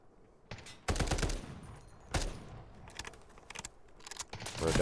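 Gunfire in the video game Delta Force, several loud bursts of rapid automatic fire separated by quieter gaps with softer clicks and mechanical handling noises, close and sharp.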